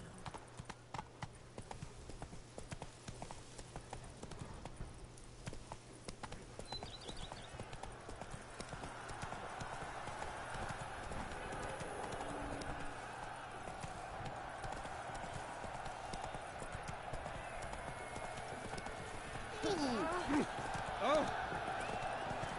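A horse gallops in The Witcher 3: Blood and Wine, its hooves a steady faint clip-clop rhythm that builds slightly toward the end, with someone talking and exclaiming over it.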